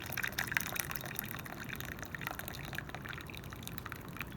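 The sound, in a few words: hot water poured over jasmine tea in a teapot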